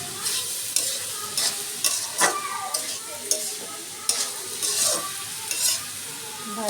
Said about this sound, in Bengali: ভাজি প্রায় অনেকটাই হয়ে আসছে, শেষের দিকে।